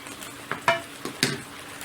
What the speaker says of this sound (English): I'm going to give this a little stir, and then I am going to toss in those peppers and onions